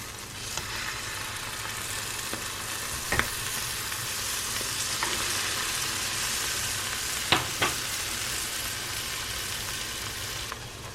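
Bread slices sizzle steadily in a frying pan as they crisp, a continuous frying hiss with a few sharp clicks and scrapes of stirring or turning, close and moderately loud with no talking.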